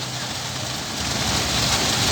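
Rain pours steadily onto a street food vendor's stall, a dense, even hiss of drops on wet surfaces that holds constant and close throughout, with no voices.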